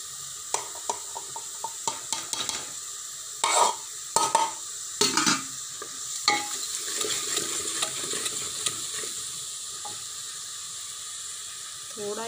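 Spices in a tadka for green moong dal fry and sizzle in a pan, a continuous hiss broken by sharp stirring clatters and scrapes, close and fairly loud.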